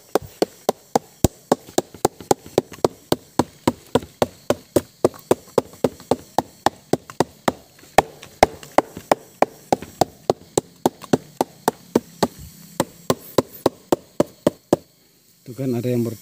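A coconut flower stalk (manggar) is struck over and over in a steady, fast rhythm of sharp, close knocks that runs for about fifteen seconds, then stops abruptly before a brief rustle.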